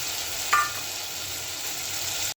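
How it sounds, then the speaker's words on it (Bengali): Oil sizzles steadily in a pan as spices and green chili fry for a fish and potato curry, a soft even hiss with one brief clink near the start. "এই যে তেল ভেজে উঠছে"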